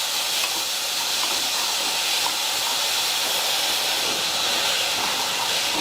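Black pepper, ajwain and cumin roast in a hot pan with a continuous close sizzling hiss that stays even throughout.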